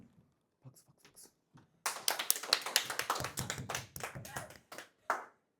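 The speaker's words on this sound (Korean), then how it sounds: "박수." Students in a classroom clap their hands, starting with a few scattered claps and building into a brisk round of close, loud applause, with some voices mixed in.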